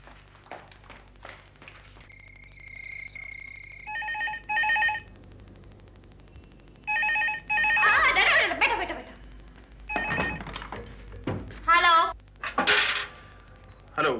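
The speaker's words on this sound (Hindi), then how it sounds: "रूपाली को बोलो उसका फोन है" A landline telephone rings in a home during a Hindi TV drama, with repeated electronic ring bursts alternating with short pauses, fairly close and clear, and people talking in between the rings.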